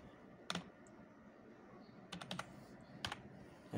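Several short bursts of keystrokes on a computer keyboard, a click near the start, a quick cluster in the middle and another pair later, with soft room noise between them and no talking.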